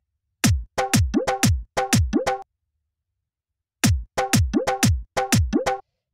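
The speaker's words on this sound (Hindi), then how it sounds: "ये जो है हमारा दादरा ताल का पैटर्न बन रहा है" A dadra taal drum pattern in triple time on dhol and kick drum: deep booming hits alternating with punchy kicks, two short phrases separated by a pause, loud and close.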